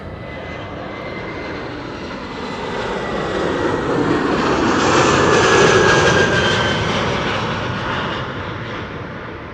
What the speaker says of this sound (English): This is Air France flight 1340, arriving from Paris-Charles de Gaulle,